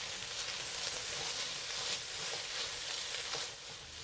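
Cabbage and glass noodles being stirred with black bean paste and oyster sauce in a hot pan, a steady close sizzle with light scraping of the utensil.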